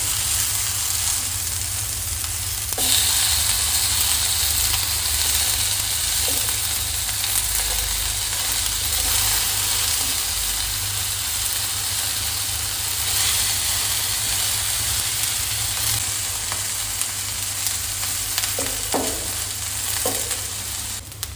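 Onion and tomato sauté loudly in a hot pan for coconut chutney, with a dense continuous sizzle and a steady low hum plus a few spatula knocks near the end, no talk.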